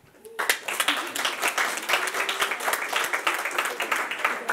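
Audience in a school quiz show studio applauding the six contestants, a crowd of clapping that rises quickly and stays lively and fairly close, with sharp individual claps standing out.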